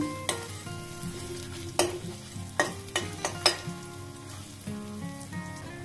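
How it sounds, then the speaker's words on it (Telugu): Two whole dried red chillies frying in hot oil, a soft sizzle punctuated by several crisp scrapes and clinks of a spoon against the pan, with music in the background. "ఇప్పుడు ఎండుమిర్చి వేస్తున్నానండి. 2 ఎండుమిర్చి హోల్గా వేసేసాను."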